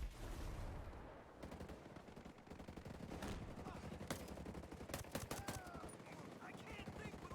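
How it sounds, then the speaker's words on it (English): Gunfire in the video game Ghost Recon Breakpoint, with dense bursts of rifle and machine-gun shots over a continuous battle roar and scattered sharp cracks, with voices faintly mixed in. "I can't think with all the shooting going on!"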